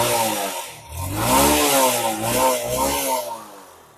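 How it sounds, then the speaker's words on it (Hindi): A Hero Karizma motorcycle's exhaust rumbles up close as the engine is revved, rising and falling in pitch through several throttle blips over a steady idle, with no talking. "एक बार आपको मैं इसके एग्जॉस्ट साउंड सुनाता हूँ।"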